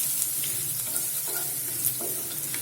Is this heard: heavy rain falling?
no